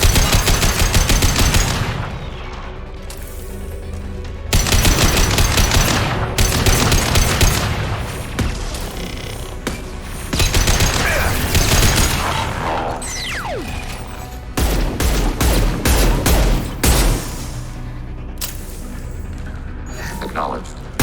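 In the video game Mass Effect 2, an automated turret fires in loud sustained bursts mixed with booms and crashes, with voices talking over the firing.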